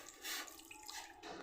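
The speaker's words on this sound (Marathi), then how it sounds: "यामध्ये मस्त असं गरम पाणी टाकून आपल्याला हे स्वच्छ धुवून घ्यायचं आहे." Hot water pours and splashes into a kitchen vessel as it is rinsed clean, a brief close wet rush with dripping and no talking.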